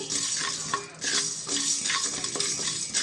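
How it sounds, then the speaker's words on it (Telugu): Coriander and cumin seeds dry-frying in a pan with no oil, stirred steadily with a spoon, producing a continuous close scraping and rustling sizzle with regular stirring strokes and no talk. "స్పూన్ ధనియాలు స్పూన్ జీలకర్ర వేసుకొని నూనె లేకుండా డ్రైగా ఫ్రై చేస్తున్నానండి"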